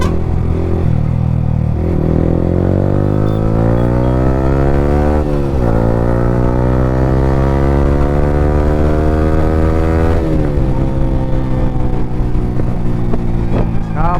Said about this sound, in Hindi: हाँ बाइक पटाखे मार दिए भाई